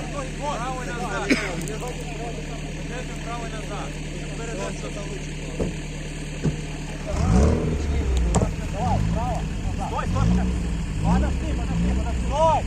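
Engine of a VAZ 2121 Niva, stuck in a pit at a friends' meetup, running steadily then rising in a louder rev partway through, with shouted voices over the engine.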